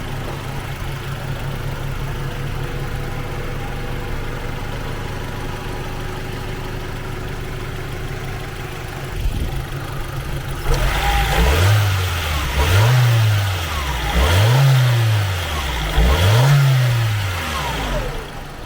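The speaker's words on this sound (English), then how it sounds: "Really good sounding motor." A 1997 Honda Orthia's B18B four-cylinder idles steadily in the engine bay, then revs up four times in a row, each blip rising and falling back, loud and close.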